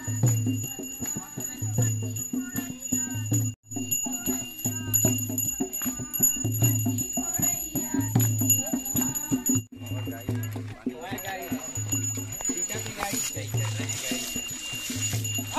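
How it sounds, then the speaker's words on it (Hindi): Bells ring continuously through a Krishna Janmashtami immersion procession in a village, set against steady rhythmic beats and a busy background of voices. "घंटी को हिलाते हुए आ रहे हैं"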